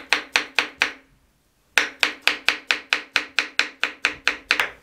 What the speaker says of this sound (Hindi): 3 केले छील के हमने इनको चॉप कर लेना है।